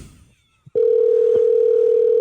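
An unanswered phone call plays a steady, loud ringing tone that starts abruptly after a brief quiet moment and holds without a break.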